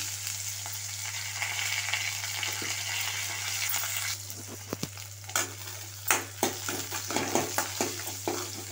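Onion, dried red chili and curry leaves frying in hot oil after mustard seeds for a herbal rasam tempering, a constant sizzle with a run of sharp spoon-against-pan clinks and stirring toward the end.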